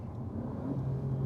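A 2022 Alfa Romeo Giulia Quadrifoglio engine in race mode gives a low, steady drone with a slight rise in pitch. The burst is short and fairly quiet, with no talk over it.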